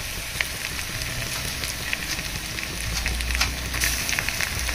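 Chicken pieces rubbed with turmeric and salt fry in a hot pan after garlic cloves and chillies, giving a steady, close sizzle with faint crackles throughout and no talking.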